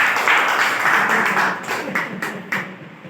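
An audience claps in a dense burst of steady, close applause that thins into a few separate claps as it fades, heard at a motivational talk with no voice over it.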